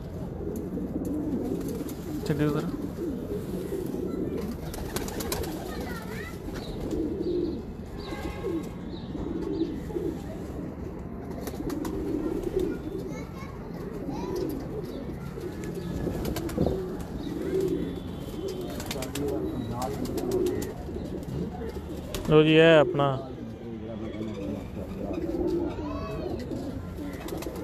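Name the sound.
breeder pigeons cooing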